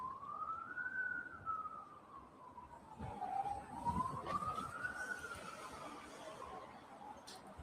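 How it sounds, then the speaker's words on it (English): A wailing siren in Jerusalem rises and falls slowly at a distance, continuing steadily under a low background rumble. "Hearing a siren."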